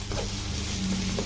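Ginger and garlic sizzling in a hot frying pan, a continuous close crackle and hiss with faint stirring, alone and brief.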